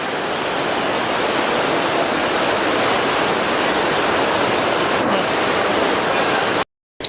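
The swollen Yamuna river in Delhi rushes below a bridge, a loud, dense and continuous roar of high floodwater that cuts off abruptly near the end.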